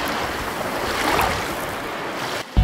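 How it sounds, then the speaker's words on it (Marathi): Sea waves wash and break on Anjarle beach on the Konkan coast. The surf makes a steady, loud roar close by and ends with a brief bump. "मागं मस्त समुद्राच्या फेसाळणाऱ्या लाटांचा आवाज येतोय"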